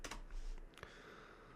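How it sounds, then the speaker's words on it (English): Close, quiet keystrokes on a computer keyboard tapped in a short irregular burst, a few clicks over a faint room background. "Sorry if you can hear me typing."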